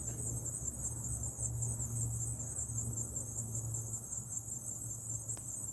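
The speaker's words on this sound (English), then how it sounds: "Nothing but crickets." Crickets chirp in a constant, high, shimmering trill that runs unbroken throughout, moderately loud over a faint low background hum.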